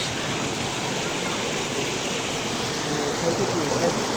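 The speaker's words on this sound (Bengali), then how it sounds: "ওই হলো ঝর্ণার শেষ" Steady broadband roar of a waterfall at Shoilopropat falls in Bandarban, a cold hill stream rushing continuously and close by, with no voices over it.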